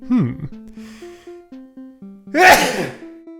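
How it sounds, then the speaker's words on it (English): A single sharp sneeze bursts out near the end, preceded by a quick intake of breath, close and fairly loud over a faint steady background tone. "I was ambushed by a sneeze right there"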